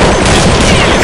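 Dense, continuous gunfire from the video game Counter-Strike 1.6, a loud, unbroken burst of shots and impacts filling the whole short moment with no voices over it.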